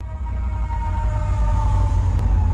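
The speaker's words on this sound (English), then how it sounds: "that sounded like a siren" A steady, droning tone holds over loud low rumble, like a distant siren wailing faintly beneath heavy background noise, with no voices.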